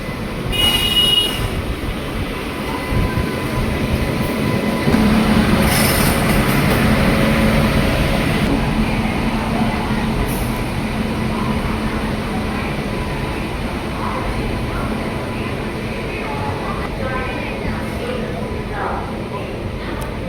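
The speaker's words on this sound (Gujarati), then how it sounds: "જો આ ટ્રેન છે વેરાવળ બાંદ્રા." Veraval–Bandra passenger train standing at a platform of Junagadh station, a broad continuous rumble of carriages and engine under nearby talking and station chatter throughout.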